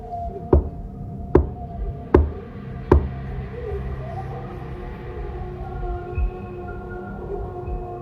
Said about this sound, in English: Do you hear the rhythm and the knock?